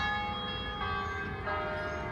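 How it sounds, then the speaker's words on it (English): Church bells ring continuously with sustained overlapping tones, loud and steady throughout, no talking. "Church bells now."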